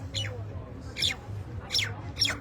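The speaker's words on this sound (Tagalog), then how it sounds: "May ibon ka sa taas." A bird calls from somewhere overhead in four short, bright chirps spaced about half a second apart, moderately loud, over a steady low hum.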